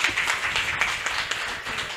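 An audience at a public reading event breaks into dense, sustained applause, many hands clapping at once in a steady wash that fills the room.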